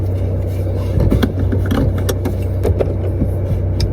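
A car cruising on the road, heard from inside the cabin as a steady low engine and road rumble with occasional small rattles and clicks, no talking.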